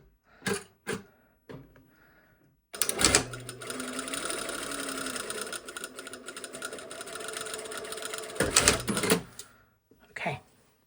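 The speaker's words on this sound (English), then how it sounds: "And then you're going to start sewing right where you clipped" A sewing machine runs steadily for several seconds, stitching a lined vent in a garment, framed by a few short clicks and thumps before and after the continuous mechanical whir.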